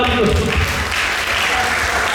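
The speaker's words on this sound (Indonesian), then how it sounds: "Berikan tepuk tangan itu." An audience at a GPI Nias church Christmas celebration claps steadily for about two seconds, a dense, fairly loud patter of hands with no one speaking over it.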